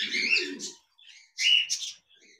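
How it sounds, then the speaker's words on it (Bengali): A caged pair of diamond doves, male and female, sit brooding their eggs. Two close bursts of high, soft chirping calls are separated by a brief pause, with a faint trailing note at the end. "ডায়মন্ড ডাব গৌ পাখি রয়েছে, মেল এবং ফিমেল দুটোটাই ডিমে বসে তা দিচ্ছে"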